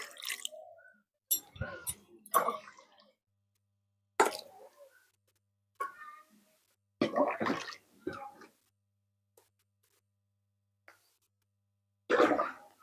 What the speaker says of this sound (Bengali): দেখুন এবার আমি জল দিয়ে দিচ্ছি